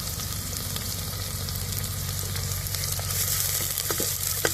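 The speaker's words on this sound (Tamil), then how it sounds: "இப்போ நசுக்கி வச்ச சின்ன வெங்காயத்தை போடுவோம்" Crushed shallots frying in a pan for fish curry, after garlic has browned, giving a dense continuous sizzle, close and steady with a low hum underneath and a few stirring clicks near the end, no voices.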